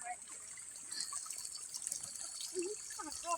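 Water trickling and splashing from an old electric motor pump into a container, a steady thin flow running under faint background voices and light movement noise.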